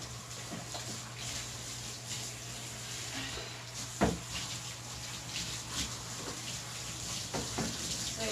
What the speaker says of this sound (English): We're just going to do a little bit of a rinse and then do the second round.